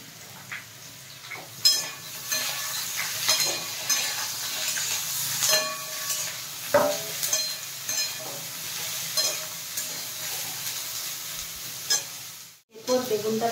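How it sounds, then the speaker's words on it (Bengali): Eggplant pieces fry in a pan after potatoes with a red chilli and cumin tempering, producing a steady sizzle broken by clinking spatula-on-pan stirs. The sound drops out briefly near the end, then the sizzle picks up again. "এরপর বেগুনটা ভাজা হয়ে গেছে"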